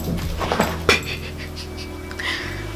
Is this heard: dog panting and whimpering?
yes